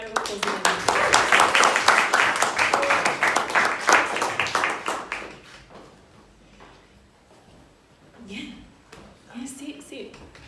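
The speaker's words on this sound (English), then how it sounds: "Can everybody give Phoebe a big round of applause?" An audience at a Western Sydney youth showcase applauds, starting with dense clapping and a few cheers. The clapping fades after about five seconds, then a voice speaks over sparse scattered claps.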